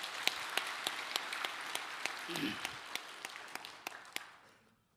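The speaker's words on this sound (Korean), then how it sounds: "성령의 역사를 믿고 선제박수로 영광 돌리겠습니다." Church congregation applause at a Sunday worship service, a steady round of fairly faint clapping with sharp individual claps standing out, briefly joined by a murmured voice midway, then fading out near the end.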